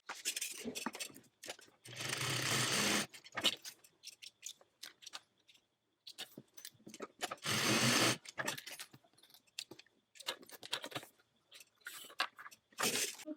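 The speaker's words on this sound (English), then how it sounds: "now I'm going to head to my sewing machine, and I'm going to stitch as close to the bottom, the straight bar of the D-ring as I can" A sewing machine stitches across the straight bar of a D-ring on a tote bag. It runs in several short bursts of steady mechanical whirring, separated by quiet pauses with small clicks and handling noises, all close and fairly soft.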